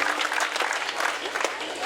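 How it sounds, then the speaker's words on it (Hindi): Loud, dense applause from a crowd at a statue unveiling ceremony for martyred BSF jawan Rakesh Nehra in Balsamand, steady clapping filling the whole stretch without a break. "एक बार जोरदार तालियों से इनका अभिनंदन थोड़ी और जोर से बढ़े।"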